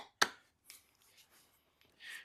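A wood carving tool chops into wood with one sharp, close crack, followed by faint scraping and soft knocks in a quiet room.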